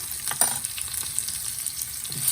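Turmeric and chillies sizzle in hot oil for a red spinach chutney, a close, steady frying crackle with a few light stirring taps and no voices.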